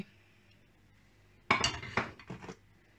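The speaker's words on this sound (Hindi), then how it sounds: "तो अब जो ये अंडे हैं इनके अंदर हम थोड़ा सा मिक्स करेंगे" Eggs being mixed in a bowl: after a quiet start, a quick run of bright clinks and scrapes as a utensil strikes the bowl, lasting about a second.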